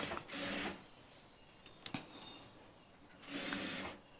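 A sewing machine stitches piping on a blouse in two short, faint mechanical runs, each lasting under a second and separated by a quiet pause.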